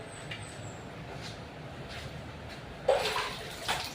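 Water running and splashing over a Honda CB650R big bike during a soap-free rinse to remove dust, a steady close wash with a louder spray burst near the end.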